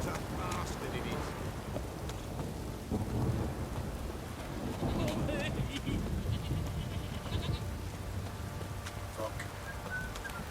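Heavy downpour in The Witcher 3: Wild Hunt, a dense steady hiss of rain with low rumbling thunder rolling underneath, a few bleating animals and brief voices scattered through the storm.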